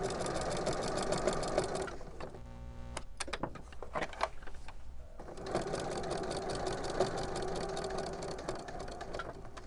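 A sewing machine stitches a dogbone-shaped Christmas stocking around a curve, its needle hammering in a fast, even run, stopping briefly for a back stitch and a few slow single stitches before the steady whir resumes.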